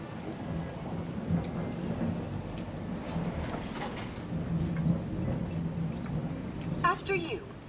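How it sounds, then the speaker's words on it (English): Steady rain with occasional rumbling thunder in the video game Fallout 4, a continuous hiss at moderate level, with faint game sounds and a brief burst of another sound near the end. "Can't hear a thing with the sound of the rain."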